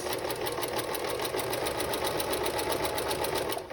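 A sewing machine runs steadily and close up as it stitches a tote bag seam, a continuous rapid mechanical whir and chatter with no pauses and no voices.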